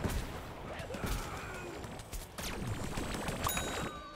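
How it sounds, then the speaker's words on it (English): Cannon fire in Guild Wars 2 booms in several bursts with sharp blasts and rumbling echoes, mixed with clanking effects at moderate volume. "Never mind, he's using cannon."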